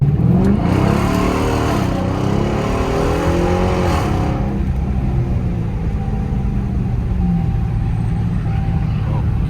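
A 2016 Dodge Charger RT revving loudly up close, its deep engine rumble rising and falling over the first few seconds and then settling into a steady heavy idle.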